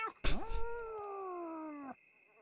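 A cat meows in The Sims video game, one long drawn-out call with a rising onset and a steady, slightly falling pitch, loud and close with no talk over it.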